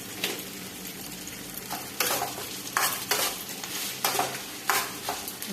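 Aloo matar samosa filling with green chillies roasting in a pan, heard as a soft sizzle broken by repeated rhythmic stirring and scraping strokes, close and without speech.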